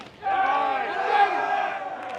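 Crowd cheering and shouting at an NC State versus Radford college baseball game, a loud swell of many voices that holds steady for about two seconds.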